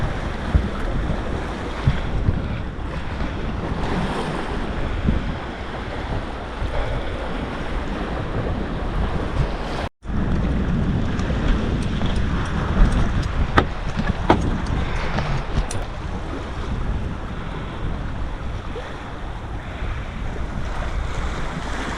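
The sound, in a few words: wind and waves while sailing a sailboat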